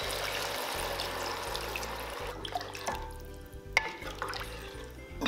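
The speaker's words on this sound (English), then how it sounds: "Pour in about 4 cups of water and cook on high heat until boiling." Water, about 4 cups, pours steadily into a pot for braised pork belly with a soft splashing trickle, quiet, over a low background hum.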